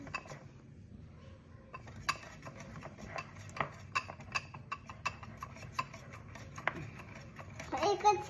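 Pancake batter being stirred by hand in a bowl, with repeated clinking taps of a utensil against the dish under nearby children's chatter and an adult voice.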